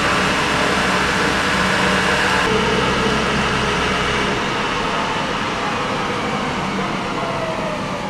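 A 1994 Toyota Camry engine idles after ECU repair, a steady low hum and mechanical whir that shifts slightly partway through, moderately loud and continuous with no talk.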